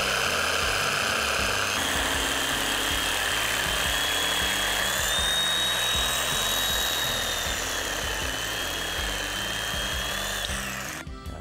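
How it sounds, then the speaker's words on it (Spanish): A jigsaw cuts wooden pieces for an outdoor shower build, its motor buzzing in a continuous, close, pulsing whine for about eleven seconds before stopping abruptly. "Para ello vamos a utilizar la sierra de calar. Cogemos la primera pieza, una mordaza y la cortamos."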